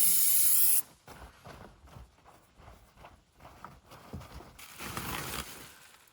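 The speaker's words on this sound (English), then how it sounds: "we'll just wipe it off with some electrical cleaner" Brief sharp aerosol burst of electrical cleaner sprayed onto a broken conductor plate from a Mercedes CL65 AMG gearbox, followed by quieter handling noises and a softer hiss later on.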